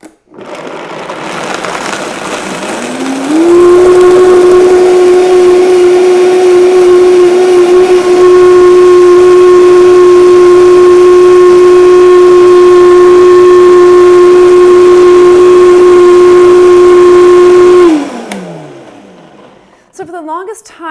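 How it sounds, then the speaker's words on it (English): A blender whirs through almonds and about half a cup of water, its motor whining up to a loud, steady pitch, running evenly for around fifteen seconds, then spinning down and stopping. "Then I have to grab the top of my blender"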